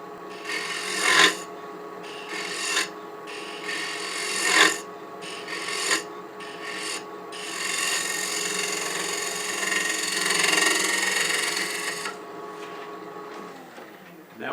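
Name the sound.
bowl scraper cutting wood on lathe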